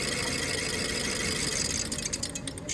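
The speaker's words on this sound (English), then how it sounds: "The engine's cut out because you've shorted it." A BMW engine runs steadily with a dense rumble, then its sound thins and falters toward the end as it cuts out with an EGR valve wire shorted to ground.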